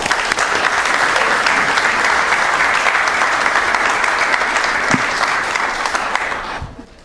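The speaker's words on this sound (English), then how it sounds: "Let's give them a big round of applause." Loud, dense round of audience applause in a city council meeting chamber, sustained for several seconds before fading out at the end.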